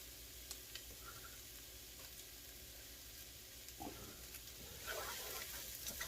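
Onions, garlic, basil and bay leaves sweat in oil with a faint, soft sizzle and a few light stirring clinks and scrapes, growing a little busier toward the end.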